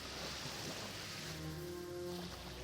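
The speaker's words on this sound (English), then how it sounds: "but the rain is still pelting you" Heavy rain pelts down as ambient effect for a live role-play game, a soft continuous patter and hiss with faint tonal background underneath and no talking.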